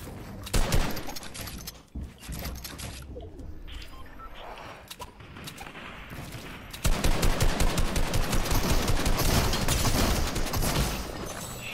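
AK rifle gunfire in Fortnite Battle Royale, loud rapid bursts that build into a dense sustained volley in the second half, with no talking over it.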